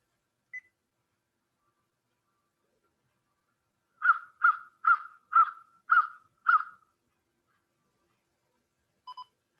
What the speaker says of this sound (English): And then common would be the American crow.